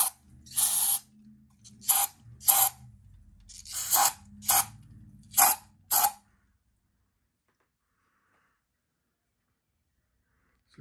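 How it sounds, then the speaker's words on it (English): Brake cleaner is sprayed onto the valves of a Yamaha F100 outboard cylinder head in about seven short, sharp hissing bursts, close by and irregularly spaced over six seconds, then silence. "There's a brake clean test. The brake clean test on the top valves."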